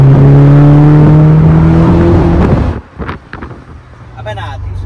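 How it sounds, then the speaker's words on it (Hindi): Exhaust note of a Mercedes car being driven, a loud droning engine hum with steady harmonic tones that cuts out abruptly, leaving wind rush and cabin noise with voices. "और गाड़ी में हमारे एग्जॉस्ट की आवाज सुनो थोड़ी सी।"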